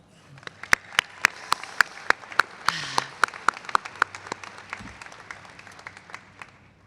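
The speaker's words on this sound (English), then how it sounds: "Let's give them another round of applause." At a pharmacy and dental medicine commencement ceremony, a sparse crowd gives graduates another round of applause, individual sharp claps standing out in a steady, irregular rhythm over a faint wash of the wider audience.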